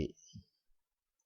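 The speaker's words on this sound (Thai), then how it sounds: "ให้เราคลิกขวาไปที่หน้าจอ" A couple of brief, close computer mouse clicks in MT4 trading software, with a short gap between them, followed by near silence.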